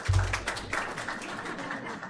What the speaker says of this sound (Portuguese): Aliás, palmas para vocês.